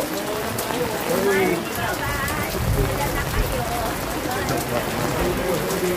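Steady rain patters on surfaces all around on J. Victorino Street, Santolan, Pasig, a dense continuous hiss with people talking faintly underneath.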